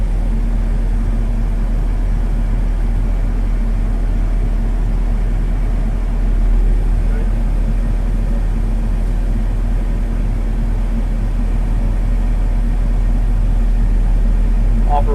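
A Huayee HY60C six-ton mini excavator with a Yanmar engine runs continuously, a loud steady low diesel drone throughout, with a faint clink near the end.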